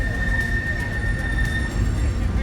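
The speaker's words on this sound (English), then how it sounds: "So, yep, the train comes by here pretty frequently every day." A train rolls past at a small-town festival car show, a steady low rumble with a sustained high wheel squeal running under faint background chatter.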